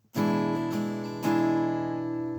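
A strummed E guitar chord rings out, restruck a couple of times, then a fuller chord with an added pinky note sustains and slowly fades; no voices.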